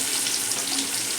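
A bunch of curry leaves crackles and sizzles in hot oil for a gravy, a steady close hiss with fine popping throughout and no talking.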